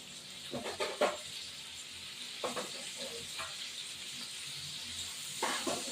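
Prawns frying in oil in a pan give a soft continuous sizzle, broken by several short bursts of crackling and stirring scrapes, close but fairly quiet.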